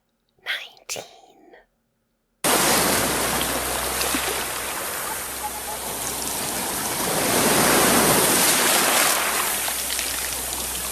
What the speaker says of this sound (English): Look at the people swimming in the ocean. Wow, what a big wave!